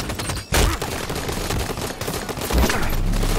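Pistol shots in a Halo 5: Guardians Beta match crack loudly near half a second and again around two and a half seconds over constant game noise, with thuds between them.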